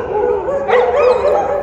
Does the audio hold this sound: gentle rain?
no